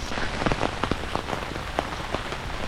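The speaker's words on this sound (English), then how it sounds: "The rain is just pouring down." Heavy rain pours steadily on a walking trail at the North George Walk entrance on Stradbroke Island, a dense continuous hiss with scattered louder drops pattering close by, and no voices.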